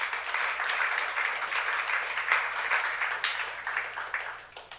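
A church youth congregation during a sermon breaks into sustained, moderately loud clapping from many hands, rippling steadily for several seconds without speech.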